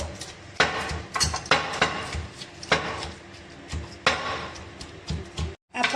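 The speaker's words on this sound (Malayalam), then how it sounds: "ബാക്കിയെല്ലാം ഇടികല്ലിൽ ഇടിച്ചെടുക്കണം" Stone pestle repeatedly pounding chilli, shallots, curry leaves and tamarind in a stone mortar for a brinjal chutney, a close series of heavy, irregular thuds and knocks with no talk.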